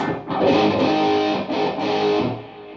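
A high-gain electric guitar rings out with sharp, boosted distortion, a couple of sustained chords with brief breaks between them.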